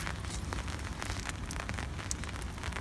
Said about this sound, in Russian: Ну, дождик, что ли, на улице?